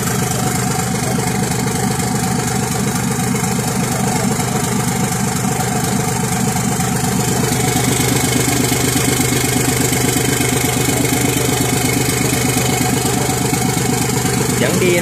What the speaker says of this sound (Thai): เฮ้ยเดี๋ยวติดเครื่องลูก